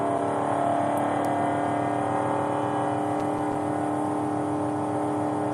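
Race car engine at a driving experience, running steadily at around 4,600 RPM with a loud, constant drone that holds through the whole stretch.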